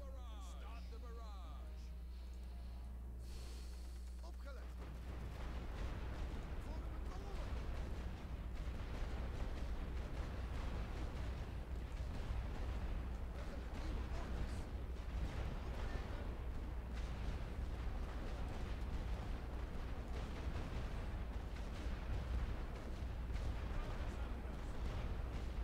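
Artillery shooting in The Great War: Western Front, a strategy game of trench warfare, as a steady rumbling barrage of distant booms and crackling fire that keeps going without a break after a quieter opening.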